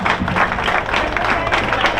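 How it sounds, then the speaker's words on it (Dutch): Crowd applause for Remco at the 2012 Dutch pole-sitting duo final in Kollum, a dense, steady wash of many hands clapping, moderately loud, with a voice speaking over it. "Een grote applaus voor Remco, 75 uur, fantastisch."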